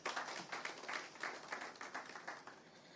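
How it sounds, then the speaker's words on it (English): An audience claps at a UK-Nigeria trade conference, a steady wash of moderate applause with many hands beating unevenly and gradually thinning toward the end. "Please, a round of applause, please."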